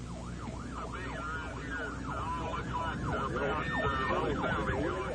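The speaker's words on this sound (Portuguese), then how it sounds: "minha sirene estava ligada" An emergency vehicle siren wailing from a moving vehicle while chasing a tornado, a rapid rising-and-falling yelp repeating steadily over road and engine rumble, fairly close and moderately loud.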